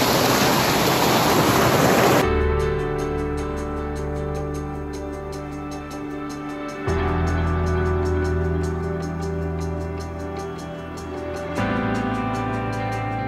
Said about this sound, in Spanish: hay un río que lo está bordeando, como pueden escuchar. Hay cascadas.